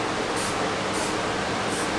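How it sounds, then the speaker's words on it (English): Cooking spray hisses continuously from a can into a baking pan for cheesecake, a close, steady spraying sound with slight pulses and no talking. "Spray it inside just a little."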